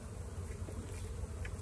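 Honey bees buzzing around an open hive during honey extraction, a steady close drone with occasional louder passes of individual bees.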